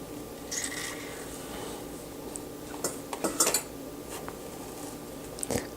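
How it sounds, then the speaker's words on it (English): A kitchen knife works through a spaghetti squash to halve it, making scraping and clicking contacts with a cluster of sharp cracks and knocks partway through and another crack at the end. "Cutting the spaghetti squash in half is probably one of the most challenging aspects of this meal"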